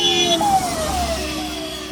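A car arriving, a brief close engine sound with a gliding pitched whine passing through and a low rumble underneath, lasting about two seconds.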